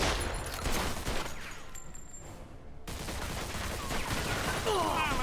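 Gunfire in a Mafia video game: crackling volleys of shots over noisy game action, a brief lull, then renewed dense firing, with a faint voice in the mix.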